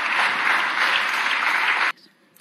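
Dense applause fills a parliament chamber, loud and sustained, then cuts off abruptly, leaving a near-silent room with a few faint sounds.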